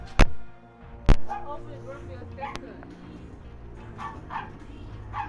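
Dog barks and yips in a Call of Duty: Modern Warfare match: two sharp, loud barks near the start, then softer intermittent yelps and whimpers under ongoing game noise and chatter.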